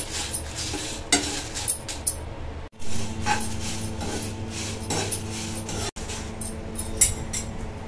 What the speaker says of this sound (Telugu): ధనియాలు, ఎండుమిరపకాయలు ఫ్రై అయిపోయాయి.